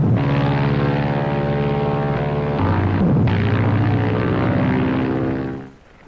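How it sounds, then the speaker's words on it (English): Propeller scout planes from the Second World War drone loudly overhead in steady, continuous engine roar, the pitch shifting midway as one passes, then fading out at the end. "scout planes flew reconnaissance missions to search out any enemy naval force."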